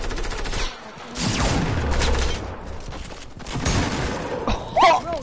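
Gunfire in the video game Squad: bursts of rapid shots and heavy thuds in a tense firefight, loud and close, broken by brief lulls.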